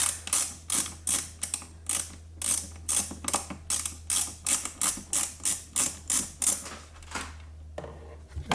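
A stubby screwdriver works a screw on a Honda S2000, giving a steady run of about twenty sharp ratcheting clicks in even bursts, fairly close and clear, with no talk over it.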